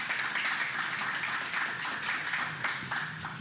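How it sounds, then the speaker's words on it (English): An audience at a SpeakuP Monday talk gives a round of applause: dense, steady clapping that fills the room for a few seconds without a break. "Give them a round of applause"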